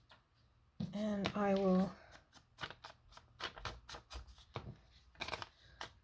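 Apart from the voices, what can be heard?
ripping off a measured piece of material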